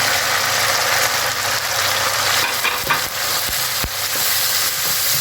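Spices and goat trotters for paya frying in a pan, loud continuous sizzle with occasional spoon scrapes and knocks against the pan.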